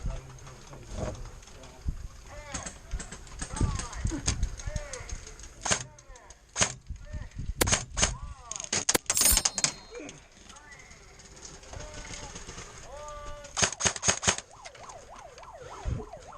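Sharp airsoft gun shots crack out in scattered bursts during an outdoor airsoft game, mixed with wind noise, movement and background voices, with a denser cluster of shots near the middle and another toward the end.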